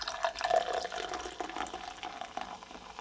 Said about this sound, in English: Wow, if I leave it open, it starts bubbling out.